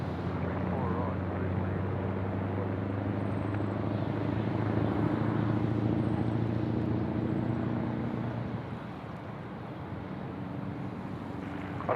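A jet airliner landing on runway 34 right at Sydney Airport, its broad steady roar rumbling close and loud through touchdown before easing slightly near the end.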